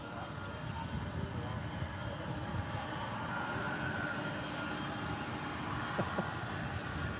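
Jet airliner taxiing across runway 18R at Dallas/Fort Worth airport, a steady broad engine rumble and hiss holding even and fairly distant throughout, with no talk over it.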